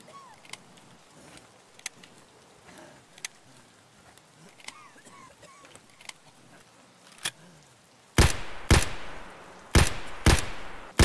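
Gunshots in the video game Escape from Tarkov, faint and scattered at first, then a few loud, close bursts fire in quick succession near the end.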